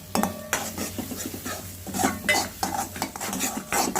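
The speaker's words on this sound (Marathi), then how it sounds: "आता ह्याच्यामध्ये मी चटणी, गरम मसाला, मीठ वगैरे घालणार आहे, सगळंच मिक्स करून घेणार आहे।" A metal spoon stirs chutney, garam masala and salt into a cooked purée for Kolhapuri whole masoor curry, with repeated scraping and clinking against the pan and a faint sizzle, no talking.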